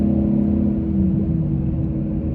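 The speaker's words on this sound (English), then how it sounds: "All right, so our little fourth gear pull here." A 2014 Mustang GT V8 pulling hard in fourth gear, a loud, steady low engine drone with rising harmonic tones heard from close by, without any talk.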